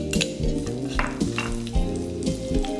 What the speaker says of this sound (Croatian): U tavu na masnoću od prženja dodamo na listiće narezan češnjak